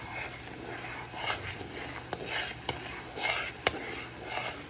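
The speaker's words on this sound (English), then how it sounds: "make sure you continually stir it for at least 1 minute" Candied yam syrup boils in a pot while it is stirred continually, giving a soft, steady bubbling hiss with a few sharp scrapes and taps of the spoon against the pot.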